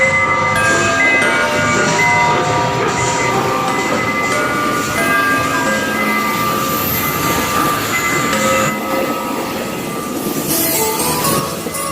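Passenger train ride with steady loud rumble of wheels on rails and rattling carriages, continuous and close throughout, with faint squeals and no talking.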